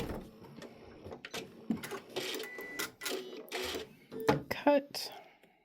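A sewing machine stitches the final seams of a small quilted holiday mug rug, short close bursts of mechanical whirring and needle chatter broken by pauses, mixed with quiet speech and rustling fabric handling.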